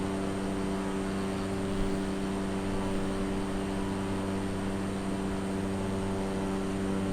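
A light aircraft flies over Loch Ness, its propeller engine holding a steady, even drone from inside the cabin with no pauses or changes in pitch.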